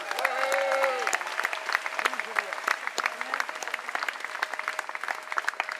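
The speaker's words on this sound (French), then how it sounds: "On peut les applaudir." An outdoor live show crowd in Toulon at the Pont du Las, Place Marcel Bidoure, breaks into steady applause, dense clapping that swells at first and then sustains with sharp individual claps, fairly close, without talk.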